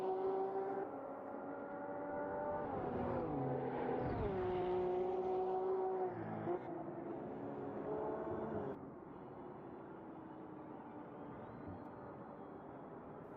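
Race car engines in a racing video game drone and whine close by, pitch rising and falling through gear changes, with a Nissan among the cars on track; no voices over it.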